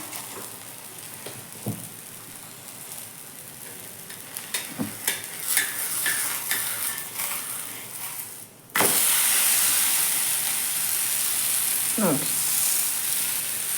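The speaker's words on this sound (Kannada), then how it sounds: "ಹಂಚಿನ ಮ್ಯಾಗ ಎಣ್ಣೆ ಇಟ್ಟು ನೋಡಿರಿ" Oil heating on a flat griddle pan in a home kitchen: scattered taps and clinks give way to a sudden, loud, steady sizzle that holds to the end.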